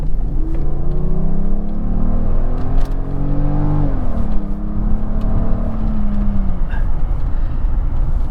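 A powerful V12 car engine revs and accelerates loudly, its pitch climbing through gears, then dropping and rising again, close and sustained with no talking.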